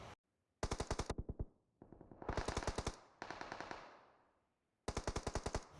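Automatic gunfire in a 2v2 mobile battle royale match, loud rapid bursts of shots in several clusters separated by short pauses, with no talk.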